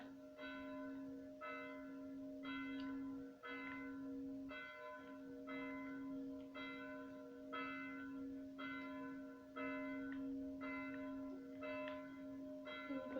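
Church bells ring in a steady, even rhythm of repeated strikes over a sustained hum, heard clearly but at moderate distance, with no voices.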